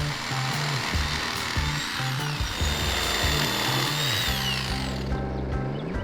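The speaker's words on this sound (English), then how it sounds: "We cut all the boards to the right length using a generator and a jigsaw." A generator-powered jigsaw cuts wooden boards outdoors in a forest, a loud, close, rapid buzzing saw whose pitch shifts as the blade bites and eases, over a constant engine drone, with no speech.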